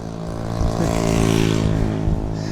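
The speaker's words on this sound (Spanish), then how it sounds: "La primera moto con ruido que escucho." A loud, rumbling motorcycle engine with a buzzing harmonic drone rises and lingers close by, rough and continuous as it passes in rush-hour Buenos Aires traffic.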